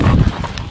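Horse hooves clip-clop steadily and close by as a rider sits on a horse at a slow pace, with a faint voice in the background.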